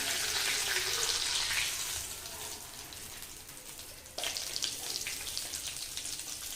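Chicken frying in hot oil for chicken kosha, with more oil added, gives a steady close sizzle that dips briefly and then surges back louder.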